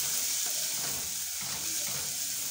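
Onion and vegetables fry in a pan for Kenyan local food, giving a soft, continuous sizzle and crackle with faint stirring and no talk.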